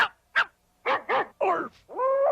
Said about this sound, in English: it only shows dogs barking